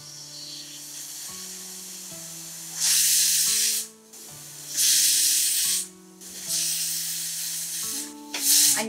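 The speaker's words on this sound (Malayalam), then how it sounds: "നമ്മൾ ഒരു അഞ്ച് മിനിറ്റ് നേരം ഇത് ഒന്ന് വിസിൽ വരുന്നത് വരെ കാത്തിരിക്കാം." A pressure cooker cooking horse gram vents steam in three loud hissing bursts, each lasting about a second, over steady stepped background tones.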